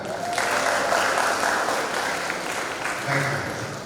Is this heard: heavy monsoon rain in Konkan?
no